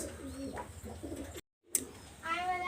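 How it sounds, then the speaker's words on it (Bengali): A pair of pet pigeons coo softly in low, throaty bursts, faint and close, followed by a short silence and then a few thin higher calls. "আজকে একটা পেয়ার আমি কবুতর দেখাচ্ছি"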